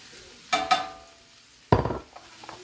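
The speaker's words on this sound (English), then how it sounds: "my onions, my garlic, and my Brussels sprouts. Let them cook." Onions, garlic and Brussels sprouts added to a hot pan where a steak has just been seared, giving two short bursts of sizzling and scraping, each rising sharply then fading, close by and fairly quiet.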